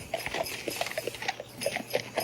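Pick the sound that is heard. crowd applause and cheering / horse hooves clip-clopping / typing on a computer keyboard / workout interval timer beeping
horse hooves clip-clopping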